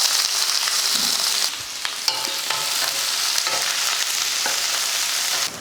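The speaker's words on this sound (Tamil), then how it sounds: "எண்ணெய் காஞ்சதுமே கொஞ்சம் கடுகுலுந்து ரெண்டு வரமிளகாய் கொஞ்சம் கருவேப்பிலை ஒரு பெரிய வெங்காயம்" Mustard seeds, two dried red chillies, curry leaves and a large onion fry steadily in hot oil for a masala sundal snack, with a continuous close sizzle, scattered popping crackles and brief clinks of stirring.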